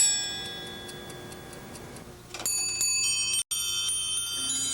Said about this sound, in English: It strikes the hour on one gong and strikes a lighter gong for every 5 minutes